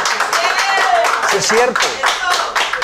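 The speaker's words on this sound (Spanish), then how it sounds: "Un aplauso para el doctor." A few people clap for a doctor on an evening talk show, a rhythmic patter of hand claps close by while someone speaks briefly over them.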